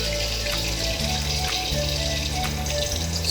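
Seasoned chicken pieces sizzle and bubble in hot cooking oil, a steady, close hiss running without pause, while a low rhythmic music bed plays beneath.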